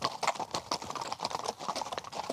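Horses' hooves clip-clop steadily along a rocky mountain trail in Morocco, a quick, continuous rhythm of many overlapping hoofbeats from several animals, close and fairly loud.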